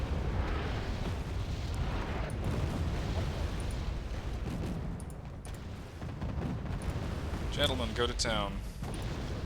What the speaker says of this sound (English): the artillery is really doing me in here